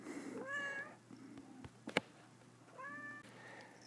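A pet cat named Tigress meows twice nearby, each call a short drawn-out rising and falling cry, separated by a quiet gap with a small sharp knock.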